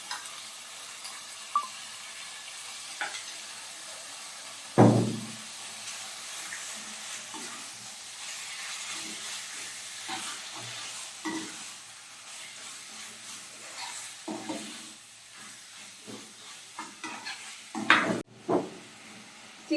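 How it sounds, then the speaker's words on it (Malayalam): Boneless chicken sautés in a pan for Chicken Mughlai, giving a steady low sizzle and hiss with occasional stirring scrapes and clatters, a sharper knock near the middle and a few more toward the end. "നമ്മുടെ ബോൺലെസ് ചിക്കൻ ചിക്കനോട് ചേർത്തിട്ട് 2-3 മിനിറ്റ് നമുക്ക് നന്നായിട്ടൊന്ന് വഴറ്റിയെടുക്കാം."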